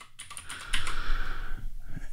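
A password is typed on a computer keyboard during a Fedora Server 37 login, a quick run of close, light key clicks over about two seconds with no voices.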